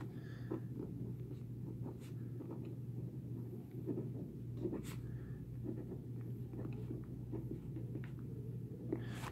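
Pen or pencil writing a title across the top of a page, faint scratchy strokes over a steady low hum, quiet and close.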